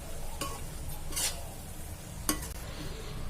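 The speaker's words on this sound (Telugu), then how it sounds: "ఇప్పుడు నెయ్యి వేసేద్దాము." Ghee added to frying grated carrots for carrot halwa, a steady sizzle under a couple of sharp spoon-against-pan scrapes as the mixture is stirred.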